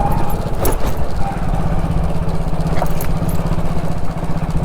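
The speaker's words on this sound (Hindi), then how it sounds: "क्रूज़र बाइक चला रहा हूँ मैं, क्रूज़र बाइक।" A cruiser motorcycle's engine runs steadily while being ridden, a continuous mid-pitched drone loud and close throughout.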